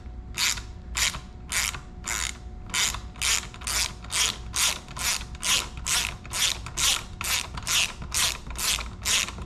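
A ratchet wrench clicks in a steady, fast rhythm of about twenty distinct strokes while backing out bolts on the rear rack of a Triumph Scrambler 400X motorcycle, close and alone with no voices.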